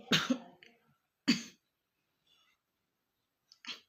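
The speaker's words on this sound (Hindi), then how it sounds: "बहुत पेनफुल होता है खांसी" Three separate bursts of coughing, short and close, with quiet pauses between them.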